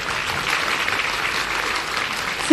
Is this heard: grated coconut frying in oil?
no